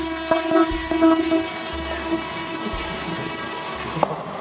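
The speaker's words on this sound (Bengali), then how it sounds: "হঠাৎ পেছন থেকে স্পিডে একটা এক্সপ্রেস ট্রেন গেল, মানে চমকে উঠেছিলাম।" An express train speeds through Talandu station with a loud, steady roar, a sustained horn-like tone and a few sharp clanks.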